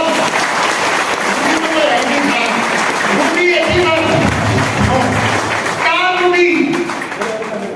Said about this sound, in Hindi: आपकी जोरदार ताली के बीच